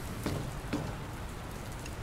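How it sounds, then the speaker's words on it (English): Steady rain falls in the video game Dr. Langeskov, a soft continuous patter with a couple of faint drip-like taps over a constant wash. "I don't think it's supposed to still be raining, but you know."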